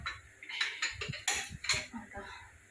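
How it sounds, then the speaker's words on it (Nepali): Dishes are washed by hand, with soft clinks and clatters of plates and utensils coming in a few quick, fairly quiet bursts. "भाँडा धुँदैछु हो।"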